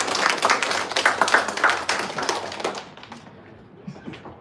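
A crowd at a hackathon kickoff claps for a speaker coming on stage, brisk dense applause with a few whoops that thins out and fades to near quiet by the end.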